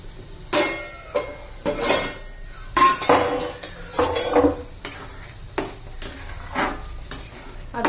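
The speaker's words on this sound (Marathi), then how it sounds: "आता झाकण काढून पाहूया आपण चेक करूया" The lid comes off a pot of egg curry with metallic clanks, followed by a run of spaced clatters and scrapes of a utensil against the pot, close and fairly loud over a faint simmer.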